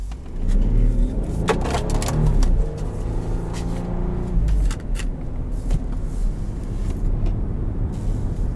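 A 2018 Volkswagen Atlas SE V6 on the road, with a steady engine drone and road rumble from inside the cabin, a brief rise in engine note, and faint clicks and knocks over the top.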